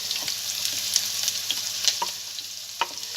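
Onions hit hot oil in a pan with a bay leaf, giving a close, lively sizzle broken by several quick utensil scrapes and taps as they are stirred, with no talking.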